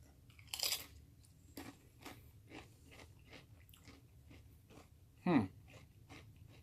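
Someone bites into a crunchy tortilla chip topped with sauce, giving one sharp crunch, then a series of soft rhythmic chews close to the mic, and a second loud crunch near the end.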